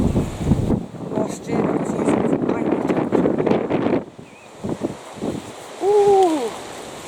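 Gusty wind buffets the microphone outdoors in a kitchen garden, a steady rumbling roar through most of the stretch that drops off near the end, with a person talking over it.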